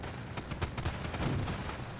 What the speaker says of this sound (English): even though it's a cannon, it doesn't seem to fire very far